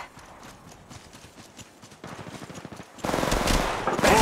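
Rapid gunfire in the Apex Legends Mobile video game rattles in quick repeated shots, a steady patter that grows louder in stages and ends in dense, close bursts.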